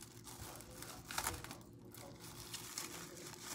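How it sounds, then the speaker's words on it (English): Plastic wrap crinkles and crackles close by as a wedding cake's top tier, still on its cardboard, gets wrapped in two layers, with a louder rustling burst near the middle and steady handling noise throughout. "you're supposed to wrap the cake two layers with plastic wrap"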